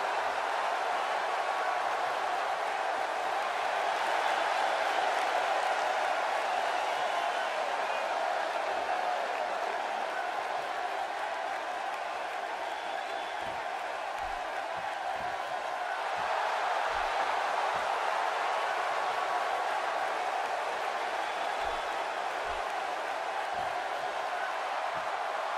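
A wrestling arena crowd in WWE 2K18 roars and applauds for a women's triple threat match with Bayley, Dana Brooke and Mickie James, a dense, steady wash of cheering that fills the whole stretch, with faint commentary over it.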